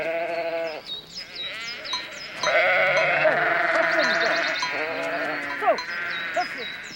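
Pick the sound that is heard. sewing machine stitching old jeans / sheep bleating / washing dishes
sheep bleating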